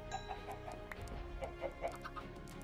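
Chicken in the Minecraft video game, clucking in a run of short, soft game-audio clucks spread across a few seconds, with no talk over it.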